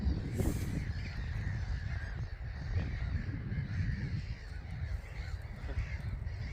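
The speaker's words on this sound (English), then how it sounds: "I'm not sure what type of gull it is." Harsh, raucous calls from a flock of gulls near a beach, repeated squawks overlapping above a rumbling outdoor background, fairly distant.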